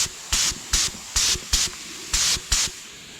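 Clear coat is sprayed from a can onto a vintage juicer in six short, evenly spaced hissing bursts, close and loud, with quiet gaps between them and no speech.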